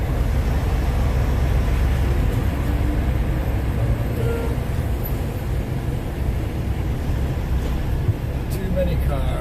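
Dense car traffic in the Miami–Fort Lauderdale area, a steady broadband rumble of many vehicles that stays constant throughout, with a person talking over it.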